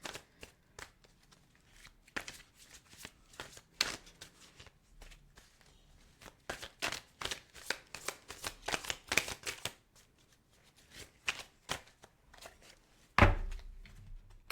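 Tarot cards are shuffled close by in repeated bursts of soft riffling and slapping, with irregular pauses, a few thumps on a table, and one louder knock near the end.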